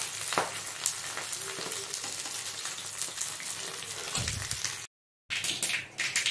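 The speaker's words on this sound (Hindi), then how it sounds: "तो फ़ौरन में मैंने सरसों और मिर्ची भी डाल दिया है" Mustard seeds and chilies tempering in hot mustard oil in a kadhai for okra make a faint, steady sizzle with small pops and crackles, briefly cut to silence near the end.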